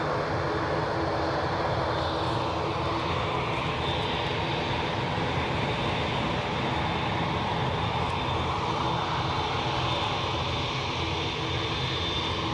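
A Bombardier CRJ900 jet airliner idles at Newcastle airport during pushback, a constant broad engine roar with a faint whine, steady and moderately distant for the whole stretch.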